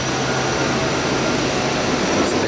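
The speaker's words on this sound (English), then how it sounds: "It's a big old plane." Steady, loud broadband roar of a large Cathay Pacific passenger jet heard while waiting to board, with a constant engine or airport hum throughout.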